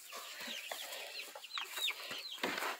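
Chickens clucking and squawking inside a coop, a busy overlapping flock with short repeated calls and a few sharper squawks, fairly close and steady throughout.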